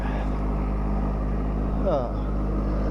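A tractor engine runs steadily nearby, a loud, even low drone with no pauses.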